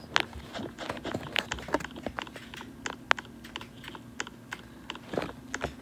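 Rapid clicking of arrow keys on a computer keyboard during a Roblox game, with irregular close taps, some quick bursts and brief pauses, clear against a faint background hum.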